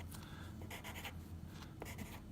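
Pen or pencil writes by hand on paper while solving a statistics problem, with steady scratchy strokes running continuously at close range and a few quick taps near the end.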